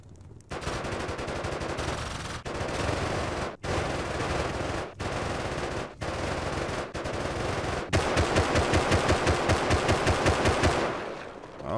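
Two players firing weapons at a base in the survival game Rust, sustained automatic gunfire in long strings broken by short pauses, ending in a steady rhythmic rapid-fire stretch, loud and close with no speech.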